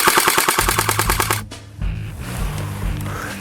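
Bo Dynamics AK Patriot blowback airsoft rifle firing full auto: a rapid, evenly spaced burst of about a dozen close, sharp mechanical cracks over roughly 1.5 seconds, then a softer rattling and humming gearbox tail.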